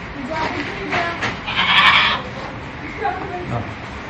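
A mother goat and two kids about a month old bleat at a farm, with a louder cry near the middle among scattered calls, while a person speaks over them.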